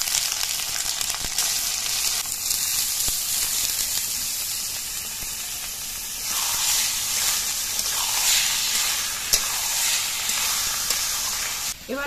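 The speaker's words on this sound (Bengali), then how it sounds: "আদাগুলো লাল হয়ে ভাজা হয়ে যাওয়ার পর এর মধ্যে চালগুলোকে দিয়ে দিচ্ছি" Rice fries in a pan with spices and ginger paste for khichuri, a steady close-up sizzle and hiss that swells when stirred, with occasional scraping clicks and no talking.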